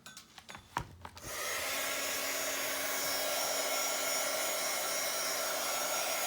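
A hair dryer roars steadily after a few soft knocks and rubbing sounds at the start, drying paint and flicked brush spatters on a paper page, loud and continuous close by.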